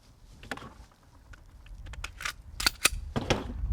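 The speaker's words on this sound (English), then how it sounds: "Now we're going to put the 357 SIG barrel in there." Metal barrel swapped into a Glock 23 pistol, a 357 SIG barrel fitted during disassembly: scattered sharp clicks and clacks of steel parts, building to a few louder snaps near the end, close and with no voices.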